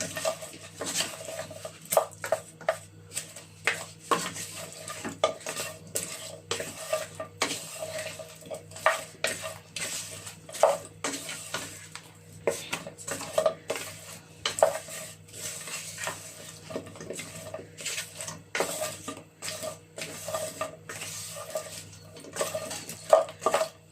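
A spoon repeatedly scrapes and knocks against a pot while Nigerian party jollof rice ingredients, fried seasoned pepper and meat, are stirred, producing steady irregular metallic clatter over a faint sizzle with no talking.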